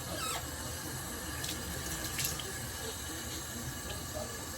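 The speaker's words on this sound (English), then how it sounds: "I was told to put warm water in it, right? So that's what I will be putting. Some warm water." Warm water runs from a tap into a small container, a steady close rush of flowing water with no break and no talk.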